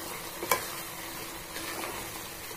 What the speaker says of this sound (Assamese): এয়া প্ৰায় উতলি আছে